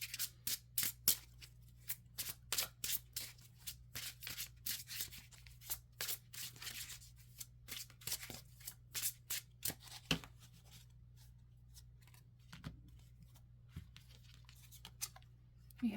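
Tarot cards being shuffled and pulled by hand, close up and quiet: a string of crisp, irregular card flicks and riffling snaps that grows sparser toward the end, with soft rustling between.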